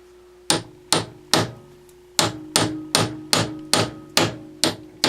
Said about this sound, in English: I'm just going to pound out the center post